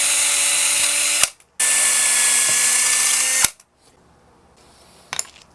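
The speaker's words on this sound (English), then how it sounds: "Let's get these holes drilled and get ourselves some locator pins put in here." A power drill bores locator-pin holes through a guitar fretboard in two loud, close, sustained high-pitched whines separated by a brief pause, followed by quiet and a small clatter.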